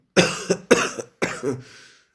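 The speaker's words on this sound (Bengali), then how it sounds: "মজিদ হঠাৎ কথা থামিয়ে কাশতে লাগলো" A man coughs in a Bengali audio story, three or four close, harsh coughs in quick bursts, with a short breathy exhale trailing after the last one.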